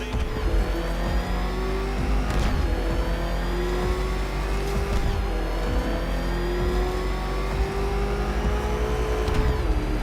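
The Batmobile engine from the video game Batman: Arkham Knight revs hard and continuously with rising gear sweeps, a loud, close mechanical roar over a deep rumble and occasional bursts.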